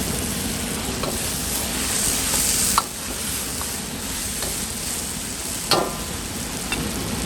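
Sichuan peppercorns and garlic sizzle steadily in a hot wok of oil for a Guizhou dry-pot beef dish, a continuous close crackle with a couple of sharp clinks of the spatula against the wok.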